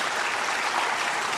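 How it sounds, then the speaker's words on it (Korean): A church congregation applauding in encouragement for a young member leaving for military service, a dense, even wash of many hands clapping, steady and moderately loud for the whole short stretch. "격려의 박수 한번 보내주시기 바랍니다."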